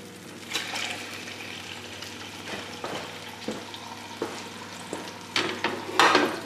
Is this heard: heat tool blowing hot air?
no